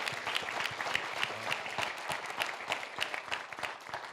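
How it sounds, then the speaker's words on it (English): Audience applause at an evening leadership event in a museum hall, steady dense clapping from a seated crowd filling the whole moment without a break. "give him a round of applause"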